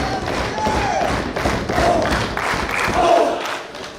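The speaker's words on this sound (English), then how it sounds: "And there you see some body shots from Josh Alexander" Heavy thuds of body shots land repeatedly in a professional wrestling match, a steady run of dull impacts over a continuous crowd roar inside the arena.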